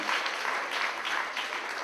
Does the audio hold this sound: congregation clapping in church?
yes